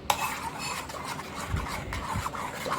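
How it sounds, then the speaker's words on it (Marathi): A spoon stirs mango ice cream mixture with fresh cream in a bowl, making soft scraping and swishing strokes, quiet and close, with no talk. "क्रीम टाकल्यावर आपल्याला हे सर्व मिक्स करून घ्यायचं आहे व्यवस्थित"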